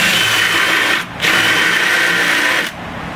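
A power drill bores into spot welds on a 1995 Mazda quarter panel during rust repair, whining steadily and close in two long bursts with a brief pause between them.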